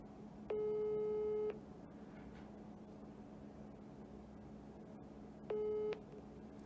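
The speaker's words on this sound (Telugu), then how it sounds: "ఫోన్ లిఫ్ట్ చేయట్లేదు" Two long electronic tones, the first about a second, the second shorter after a pause, over steady background hiss; a telephone signal indicating the call goes unanswered.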